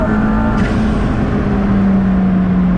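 A McLaren sports car engine running loud and close, with a steady droning tone that shifts slightly in pitch, under continuous road and exhaust roar.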